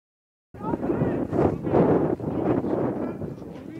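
Gusty wind buffeting the microphone at an outdoor amateur football match between FSV Bentwisch and 1.FC Neubrandenburg 04, loud low rumbling blasts that swell and dip, starting abruptly after a moment of silence.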